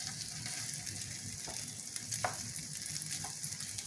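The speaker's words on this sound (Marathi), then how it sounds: "ते आता आपण छान भाजून घेऊ." Puran dhond sizzles gently in a pan as it roasts, a soft constant crackle at low volume with a few faint scrapes of a utensil, no voices.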